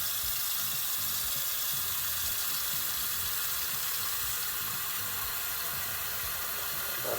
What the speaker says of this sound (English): Now we're gonna fill it up with 2/3 water to this little 2/3 marker right here.